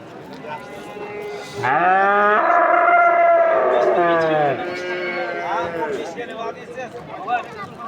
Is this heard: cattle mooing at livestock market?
yes